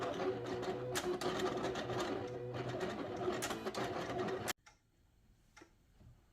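A Cricut cutting machine cutting a vinyl silk-screen stencil, heard as a busy close mechanical whirring and ticking that stops abruptly, leaving quiet room sound.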